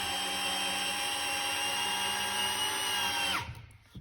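A Festool CXS drill/driver on speed 1 whines steadily as it drives a screw, then winds down abruptly and stops near the end, with no one speaking.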